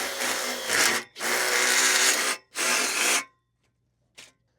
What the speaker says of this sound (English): we're going to take our self-tapping screw, and we're going to be using this to drill a pilot hole